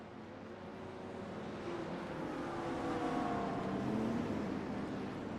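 Race cars on the Charlotte Roval road course rumble as a steady, continuous engine drone that swells slightly midway, a sustained mid-distance roar with no voices over it.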